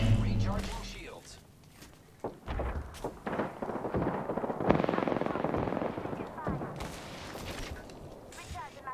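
Apex Legends gunfire rings out in rapid bursts and single shots at moderate loudness, mixed with other game effects while a voice talks over it.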